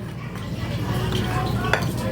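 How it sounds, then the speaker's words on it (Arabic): A utensil stirs flour and baking powder together in a bowl, giving soft, continuous scraping with faint clinks against the side. It is close and moderately quiet. "اقلب كويس المكونات دي"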